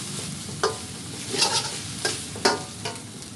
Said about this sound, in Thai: แล้วก็ผัดค่ะ